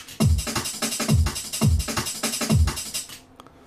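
Drum and bass pattern with a ghost snare, punchy kick and snare hits repeating in a fast loop with quieter ghost notes filling the gaps, loud and busy before cutting off at the end.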